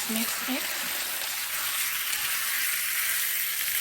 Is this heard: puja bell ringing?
no